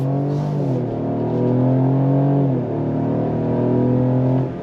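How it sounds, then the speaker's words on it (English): A 2025 Ford Explorer in sport mode accelerates hard with a loud, rising engine drone, and its 10-speed automatic shifts audibly twice, the pitch dropping at each gear change before climbing again. "Nice shifts from that 10-speed automatic transmission, and the power gets to the ground very, very effectively."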